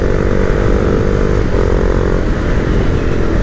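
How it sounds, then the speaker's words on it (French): A Husqvarna Vitpilen 701, a neo-retro motorcycle, runs with a loud, close, steady engine drone that holds a constant rumbling note throughout. "un moteur comme celle-ci, la Husqvarna, qui est très teigneux"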